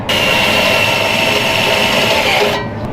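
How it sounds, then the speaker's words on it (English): A power drill whines steadily and loudly for a couple of seconds, then cuts off abruptly near the end. "When all else fails, you just drill a bigger hole."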